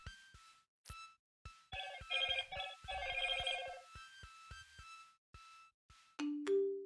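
A mobile phone rings with a bright electronic tone in repeated bursts of chiming notes, separated by short sharp clicks, close and fairly clear against a quiet background.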